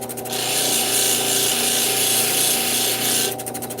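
A turquoise cabochon with its edge being bevelled against a spinning grinding wheel, giving a steady, close abrasive hiss and rasp that holds for about three seconds, with a faint machine hum before and after.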